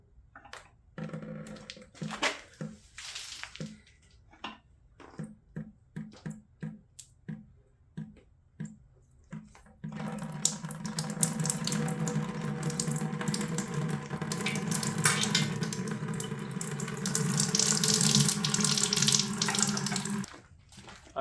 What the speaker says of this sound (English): I'm just going to tip this engine and hope that most of the coolant will come out of that coolant port into my 5-gallon bucket